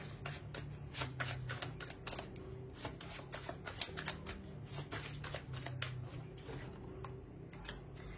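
Tarot cards being shuffled by hand, a quiet, steady run of soft riffling flicks and taps repeated close up with no talking.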